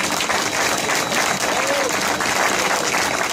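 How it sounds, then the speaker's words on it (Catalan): Applause from the crowd at an international blacksmiths' gathering in Alpens, honouring a sardana dedicated to blacksmiths, is a continuous, dense clapping that fills the space with no pause. "Un fort aplaudiment, sisplau"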